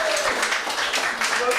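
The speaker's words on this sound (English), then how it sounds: "Give her a round of applause." Comedy club audience applauding, a brief dense burst of clapping with talk over it.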